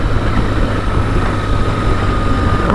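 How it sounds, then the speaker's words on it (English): A BMW R 1150 GSA motorcycle engine running at a steady idle, a loud continuous low throb with a faint whine above, close and alone. "the whole bike just sounds better"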